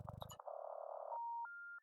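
A telephone rings in a horror observation video game on hard mode, heard as a steady electronic buzzing tone followed by short clean beeps, alone and fairly quiet after a brief low rumble.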